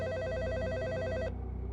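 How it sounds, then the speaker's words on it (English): A telephone rings with a rapid, trilling electronic bell for about a second, loud and alone, then cuts off and leaves a low hum. "Until the phone rang the first week of summer break."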